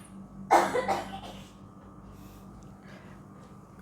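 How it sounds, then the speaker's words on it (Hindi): A single person coughs in a short burst of several harsh coughs, fairly close, then quiet room tone with faint background hum. "खांसी आ गई।"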